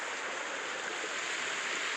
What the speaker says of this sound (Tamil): தண்ணி வேறு இப்படி வரும்